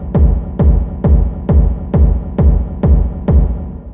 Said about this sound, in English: Create this big rumble effect